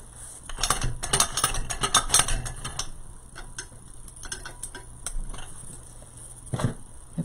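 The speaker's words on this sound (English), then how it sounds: "pick machine is working like about every other one" A pick machine works while a grapevine wreath is being made, giving a stream of quick mechanical ticks and clicks in uneven bursts, fairly close, over a low steady hum.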